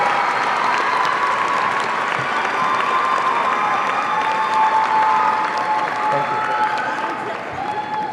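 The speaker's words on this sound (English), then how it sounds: "A round of applause for the parents of the salutatorian." A large crowd at a 2018 high school graduation gives sustained, even applause for the salutatorian's parents, dense clapping with scattered cheers that holds steady for several seconds before easing off.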